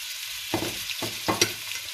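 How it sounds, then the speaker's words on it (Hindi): Onions fry in a generous amount of oil for chickpea pulao, a soft, steady sizzle broken by a few quick scraping strokes of a stirring spoon, heard close but quiet. "प्याज हमें इस तरह के ब्राउन करने होंगे, ब्लैक नहीं होने देंगे वरना कोई कलर नहीं आएगा।"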